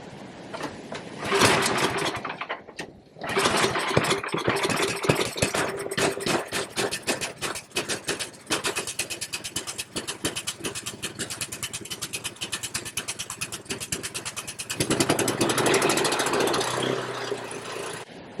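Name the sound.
snow blower engine running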